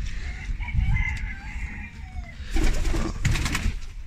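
Pigeons sitting in a coop on a farm with chickens nearby, soft bird calls and fowl sounds close by with a louder crowing-like burst partway through.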